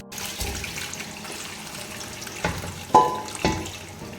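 Cooked chicken tipped into biryani masala in a pan, giving soft sizzling and a few sharp clattering thumps of spoon and pot, close and fairly quiet.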